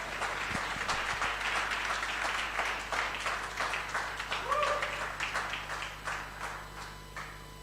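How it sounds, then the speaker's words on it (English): An audience at a Sheffield meetup applauds a presenter. The clapping is moderate and somewhat distant and tapers off toward the end, with a brief voice heard partway through. "Another big round of applause for Jen,"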